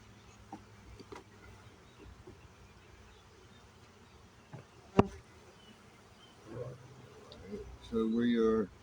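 Bees buzz around a beehive during a post-swarm check of a colony that swarmed, a low steady hum with scattered close passes, swelling loudly near the end under faint background talk.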